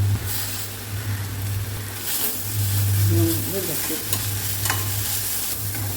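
Carrot leaves, coconut, tamarind and curry leaves sauté in a pan for chutney, giving a steady close sizzle and frying hiss with a stirring stroke now and then, while a faint voice speaks briefly partway through.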